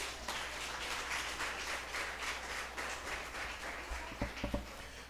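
A church congregation applauds through a sermon, a steady wash of clapping from many hands at moderate distance that carries on throughout, with a few louder claps near the end.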